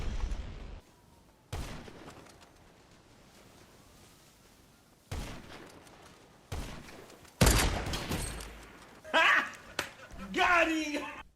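A few sharp, isolated gunshots crack out in GTA 5 Online, separated by quiet gaps, with someone talking over the later part.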